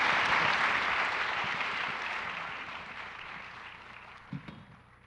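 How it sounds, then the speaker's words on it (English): Audience applause for the panelists at a healthcare economic impact forum, a dense broad clapping that starts full and gradually fades over about five seconds. "If we could give everyone a round of applause."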